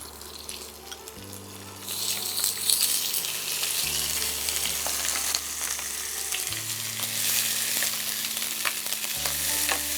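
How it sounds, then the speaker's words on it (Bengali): Chicken pieces frying in a pan, a strong continuous sizzle that swells after the first two seconds and holds steady, with a low background hum and no talking. "এটা ভালো করে ফ্রাই করবেন।"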